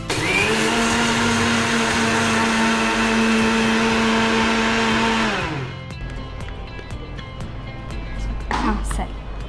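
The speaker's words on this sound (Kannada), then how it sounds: "ಸಕ್ಕರೆಯನ್ನು ನಾವು ಮಿಕ್ಸಿಗೆ ಹಾಕಬೇಕು." Sugar being ground in a kitchen mixer grinder: a loud, close, high whirring motor runs steadily for about five seconds, then winds down and stops, followed by quieter kitchen handling sounds.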